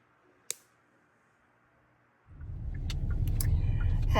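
A click, then near-silence, before a car's engine and road rumble swell in and continue steadily, heard from inside the car.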